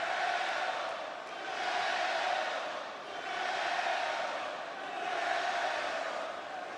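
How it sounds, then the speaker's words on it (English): A large wrestling arena crowd on SmackDown sends up a broad, distant roar that swells and ebbs in slow rolling waves of indistinct chanting. "I can't tell what the crowd is saying"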